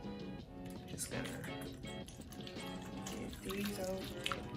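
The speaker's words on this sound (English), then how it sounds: "I'm gonna add some boiling water on top." Freshly boiled water pours from a kettle over apples in a bowl, a steady close splashing stream that keeps running throughout with brief surges near the end, a voice talking faintly underneath.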